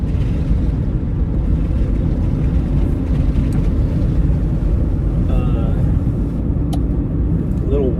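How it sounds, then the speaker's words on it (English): Strong wind buffeting the microphone on a trail run in Montana, a loud, continuous low roar with steady gusting and no breaks over several seconds. "It is so freaking windy out"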